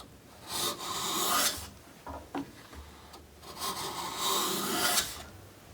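A Lie Nielsen 10 1/4 high-angle, bevel-down hand plane rasps across wood in two long strokes, with a few light knocks of handling between them, close and clear.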